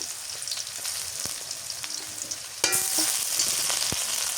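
Ginger-cumin paste and spices sizzle loudly in hot oil while a big river fish curry is being prepared, a steady frying hiss that surges sharply louder midway as more paste hits the pan, with faint utensil clicks.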